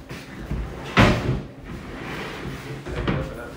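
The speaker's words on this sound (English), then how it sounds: "Let's be sure we get the detail on these drawers." Closet drawers in an apartment slide open and shut, two woody clunks about two seconds apart over a quiet room, fairly close and with no talk.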